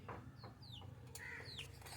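A few faint, thin, high peeps from a sick chicken chick, spaced irregularly over a low background hum.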